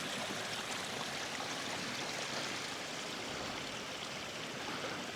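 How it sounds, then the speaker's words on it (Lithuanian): A mountain stream in the Swiss Alps, along the Haute Route trek, rushes in a steady, close, unbroken wash of water noise for the whole stretch, with no voices. "Pilsimės iš upeliuko, krakliuko tokio."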